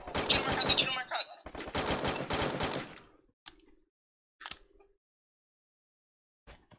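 Gunfire in a mobile shooter game: two long bursts of rapid automatic fire close up, followed by a few isolated single shots, with talk in the background.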